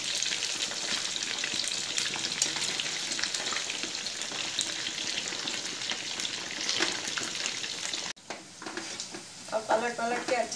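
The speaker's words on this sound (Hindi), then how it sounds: "पलट पलट के अच्छी तरह से गोल्डन कलर करके फ्राई कर लेने का।" Soya chunks frying in hot oil and being turned until golden, a loud steady sizzle that runs continuously, with sharper stirring scrapes near the end.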